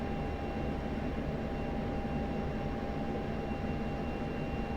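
A C-130 Hercules in the DCS flight simulator gives a steady, continuous propeller-engine drone with a faint high whine, moderately loud and unbroken throughout, with no talking.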